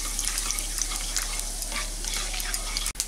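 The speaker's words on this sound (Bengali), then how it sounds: "এখন এই ফোটনটাকে কয়েক সেকেন্ড ফ্রাই করে নিচ্ছি" Whole dried chili, cinnamon, cardamom, cloves and white cumin sizzle in hot oil for an Indian potato curry, a steady close crackling hiss with light stirring throughout and a brief clunk near the end.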